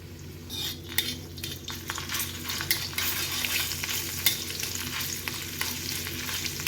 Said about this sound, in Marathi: तर आपलं तेल गरम झालेलं आहे, तर यामध्ये आपण आता आलं लसणाची पेस्ट टाकणार आहोत.